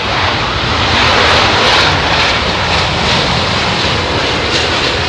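Aircraft touching down at London Heathrow in low visibility, a loud continuous engine roar with broad rushing noise holding steady for the whole span, no voices.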